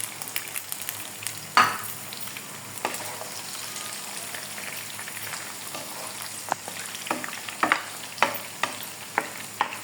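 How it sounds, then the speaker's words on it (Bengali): Steady sizzle of garlic and egg frying in a pan, with a few sharp clinks and scrapes from stirring scattered throughout; no voices. "এটা হালকা ভাজা হতে থাক।"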